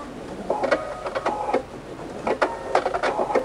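Sewing machine stitching bias binding onto velvet for a quilted Christmas tree skirt, running in short uneven bursts of mechanical whirring with brief pauses, close and fairly quiet.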